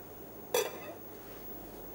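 A lid set onto a cooking pot of cold-poached meat seasoned with coarse salt gives one short, bright metallic clink, close and alone, fading quickly into quiet kitchen background.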